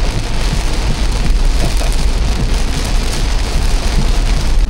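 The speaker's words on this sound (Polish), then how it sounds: "Ulewa jak nie wiem" Heavy downpour on an island road near a bridge in Croatia, a dense, loud, continuous hiss of rain pounding surfaces with no talking.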